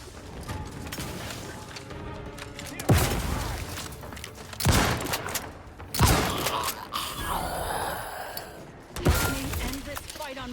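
Trench gun blasts from The Outer Worlds, four heavy booming shots spaced a second or two apart over continuous game noise and mechanical clatter, with a voice talking in between.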